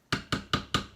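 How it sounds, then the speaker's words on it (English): Lid set down on a slow cooker while making devilled sausages: four sharp, evenly spaced knocks about a fifth of a second apart, each a crisp clack with a short ringing tail, close and fairly quiet. "I'll just put the lid on now and I'll let that cook"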